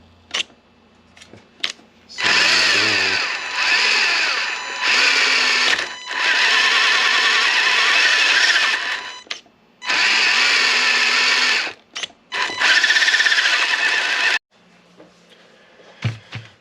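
Small power screwdriver driving four screws into the control horn of a Vanquish RTR Phoenix RC plane, whirring in several sustained bursts of a few seconds each with brief gaps, close and loud, no talk.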